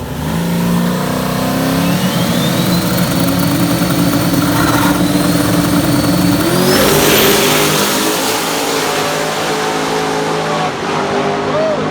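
A car accelerates hard through a timed acceleration run, its engine note climbing steadily in pitch through the gears with a brief shift dip, loud and close throughout without talk.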